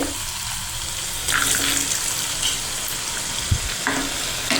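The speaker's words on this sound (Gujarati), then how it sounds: "આપણું તેલ ગરમ થઈ ગયું છે, તો આપણે તેમાં બટેટાની ચિપ્સ નાખી અને તેને તળી લઈશું" Potato chips frying in hot oil give a steady, close crackling sizzle throughout, with a few soft clinks and stirring scrapes partway through.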